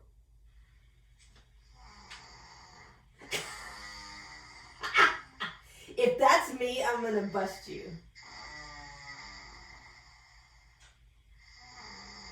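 A few loud snoring snorts, played back through a phone, sit between stretches of quiet talk that comes before and after them.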